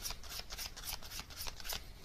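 Tarot message cards are shuffled by hand in a quick run of soft, papery riffles and flicks, close and quiet with no talk.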